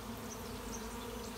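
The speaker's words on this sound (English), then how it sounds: "It's late June, and I have a big swarm." Late-June honeybee swarm in flight, a dense continuous buzzing hum from many bees close around, steady and unbroken throughout.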